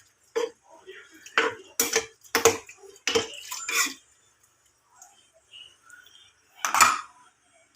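A utensil stirs squid and vegetable stir-fry with sautéing mix in a pan, giving a series of sharp metallic clinks and scrapes in short bursts, with a pause before a final clatter.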